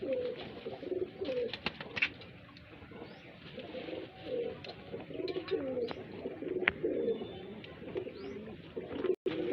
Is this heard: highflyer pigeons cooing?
yes